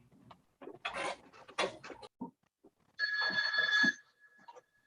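Telephone ringing in a courtroom during a session, a single electronic ring tone sounding briefly amid scattered nearby talk.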